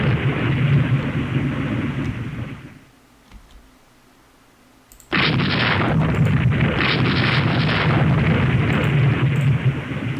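Naval gunfire in the warship strategy game Rule the Waves 2: a loud, sustained rumbling barrage of booms fills the scene, breaks off into near silence for a couple of seconds, then resumes just as heavy and continuous.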